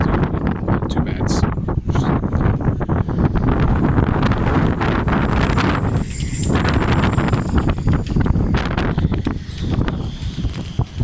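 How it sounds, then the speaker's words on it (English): Strong wind buffets the microphone in loud, continuous gusts and roars on a boat deck during sea trials, with brief lulls, sounding close and harsh. "it's very windy here"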